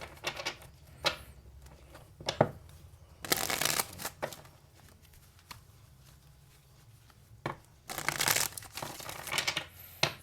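Tarot cards being shuffled by hand in bursts of crisp riffling and soft flapping, separated by quiet pauses, close and fairly quiet, with no talking.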